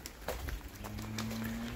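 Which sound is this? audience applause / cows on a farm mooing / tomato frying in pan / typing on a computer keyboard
cows on a farm mooing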